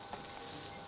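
Fried rice being stirred in a frying pan, a soft steady sizzle with faint scraping textures, moderately quiet and close, with no one speaking.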